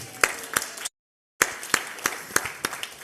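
Scattered, sparse clapping from an audience at a property seminar, with distinct individual claps at an uneven rhythm and a brief gap of total silence midway.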